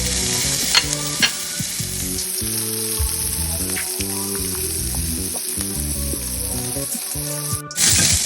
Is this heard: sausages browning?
yes